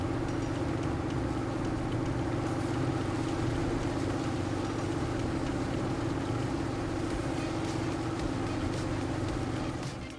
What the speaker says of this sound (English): The combine moved smoothly through the field,